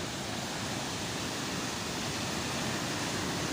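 Water overflowing at Gefersa dam near Addis Ababa, a steady, even rushing hiss like a distant waterfall that holds unchanged for a few seconds with no voices.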